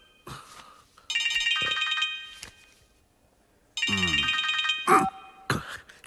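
An incoming-call phone ringtone plays in two loud bursts of bright, chiming tones separated by a short pause, followed by a few brief clicks and knocks, with no talk.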